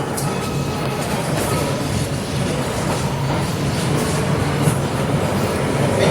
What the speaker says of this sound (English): This is the Coney Island, Hillwell Avenue bound F local train